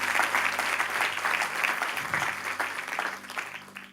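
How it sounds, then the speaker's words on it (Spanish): A church congregation applauds together during a sermon, a steady, fairly loud wash of clapping that holds for several seconds before tapering off. "Dele un aplauso al Señor y dele gracias."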